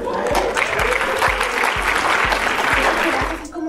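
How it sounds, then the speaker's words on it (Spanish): Audience applause at the Hablemos Diseño 2012 design congress, a dense crowd clapping steadily and loudly for several seconds with low thumps pulsing regularly underneath, fading slightly at the end. "aplauso breve por su"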